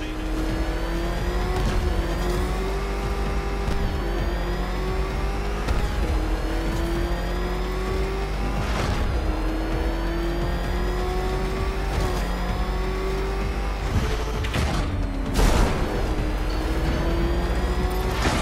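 A car engine revs hard during the Riddler race in a Batman video game, a loud, continuous whine that climbs and drops in pitch with repeated gear shifts, punctuated by sharp impact and skid noises, and no talking.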